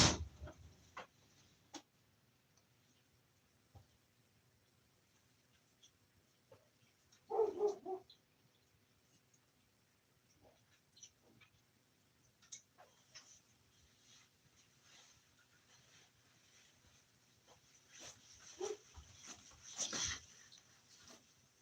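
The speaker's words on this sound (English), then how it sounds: "What are they barking at?" Dogs bark indoors or just outside in a short burst, then again later, fairly faint with quiet room noise between.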